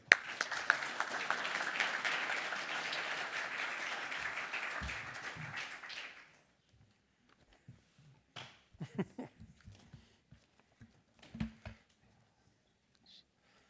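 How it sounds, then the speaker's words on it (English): An audience at an annual conference gives a round of applause to welcome the keynote speaker: about six seconds of dense clapping that stops, followed by quiet scattered handling noises and shuffling in a hushed room. "Please give him a round of applause to welcome him."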